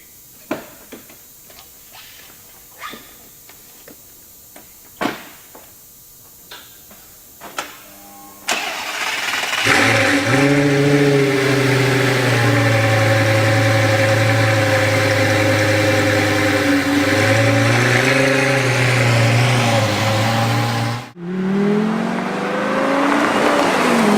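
A Lamborghini Gallardo e-Gear starts with a few sharp clicks, then its engine catches and settles into a loud, steady drone with rising and falling revs and one abrupt gap, then resumes.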